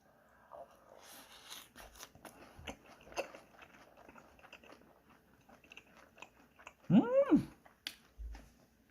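Crisp crunching and chewing of a fried water-parsley and freshwater-snail fritter close to the mic, irregular bites scattered through near-quiet, followed by a short voiced sound of enjoyment.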